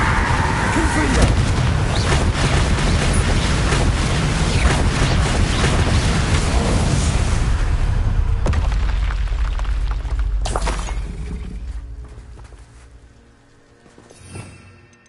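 Bombarda and Confringo spell explosions in the Hogwarts Legacy video game: a long run of loud, dense blasts and rumbling that carries on for about ten seconds, then fades into a quieter tail with one last small burst.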